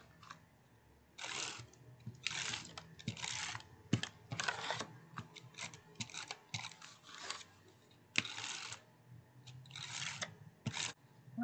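A handheld tape runner lays adhesive on a Dollar Tree decor piece during a craft project, making repeated short scratchy rasping strokes with clicks in between, close and quiet.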